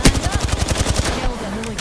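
Rapid bursts of automatic gunfire in the game Apex Legends, a loud rhythmic stream of shots that fades into quieter ambience near the end.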